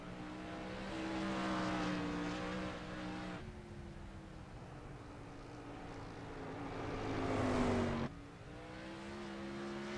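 A 360 sprint car laps Irwindale Speedway in qualifying, its engine roaring loud then fading, shifting pitch, surging again and dropping abruptly as it circles the oval.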